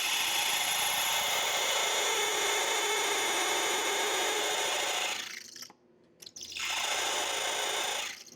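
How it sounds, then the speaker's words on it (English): A metal drill bit grinds steadily into wood with a rough, rasping whir, pauses briefly, then starts boring again. "I don't drill all the way through with this metal bit"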